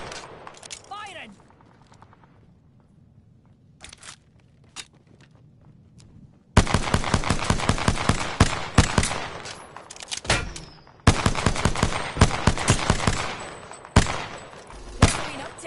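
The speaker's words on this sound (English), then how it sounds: "Firing." Rapid bursts of close, loud automatic gunfire in Apex Legends, arriving in dense volleys with brief pauses, after a quieter opening of scattered game sounds.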